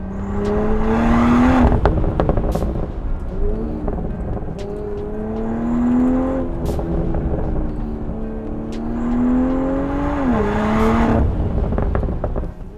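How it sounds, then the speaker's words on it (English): A Morgan car with a BMW engine accelerates repeatedly, its engine note climbing in pitch in several rising surges with brief lifts between, heard fairly close and moderately loud. "you get a real kind of sound of progress as the engine just gulps in as much air as it possibly can"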